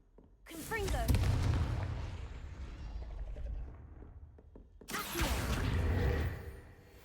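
Confringo spell blasts in Hogwarts Legacy, two loud booming explosions a few seconds apart, each starting sharply and rumbling on with debris and a deep low roar, with a voice shouting over the first.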